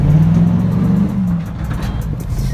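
At a Houston race meet, a car does a burnout: a loud engine roars close by with a sustained drone and gritty tire noise, holding steady without clear revving peaks.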